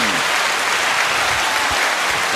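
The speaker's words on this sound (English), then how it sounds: "Hey, round of applause." Loud, dense applause from a live-show audience, a continuous wash of clapping close and steady throughout.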